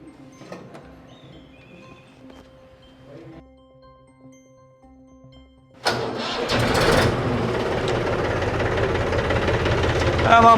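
A tractor engine cranks and catches to life, a sudden loud mid-pitched rumble that settles into a steady idle after a few seconds of quieter rustling and faint voices in a rural setting.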